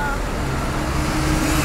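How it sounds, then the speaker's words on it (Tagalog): Street traffic outside a broadcast studio in the Philippines, with a car passing through a steady broad roadway rumble, close and fairly loud throughout, with no clear voices over it. "may sasakyan, ulit."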